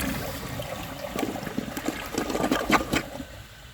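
A 1998 Eljer Savoy toilet runs a short flush: a soft rush of water swells, churns and gurgles for a few seconds, then drains away faintly, with no talking.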